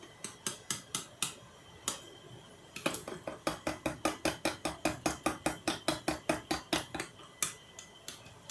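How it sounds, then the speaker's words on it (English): Metal whisk or fork beating eggs in a bowl to break the yolks for cornbread batter, a steady run of sharp clinking strokes against the bowl, close and brisk, briefly pausing then resuming faster. "Get the yolks broken in those eggs."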